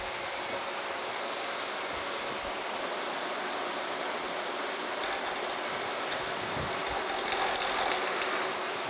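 A milling machine running at 250 RPM cuts a cast metal foundry square, giving a steady broadband grinding roar that holds throughout, with a brief brighter high-pitched squeal near the end.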